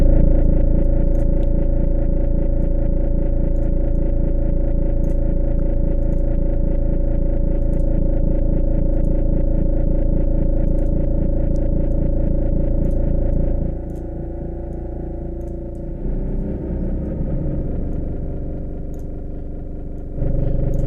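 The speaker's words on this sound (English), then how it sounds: "We got a nice delay on deck." A sustained distorted tone runs through a Waves Flow Motion delay effect, loud and continuous with repeating echoes, then thins out and changes texture toward the end, with no voices.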